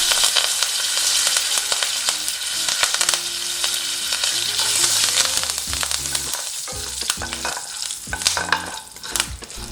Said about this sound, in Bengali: কারি পাতাগুলো ভালোভাবে ভাজা হয়ে গেলে